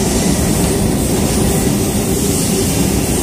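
Sydney Tangara electric train passing through Oatley station, a loud steady roar of wheels and motors filling the whole moment, close by and with no voices.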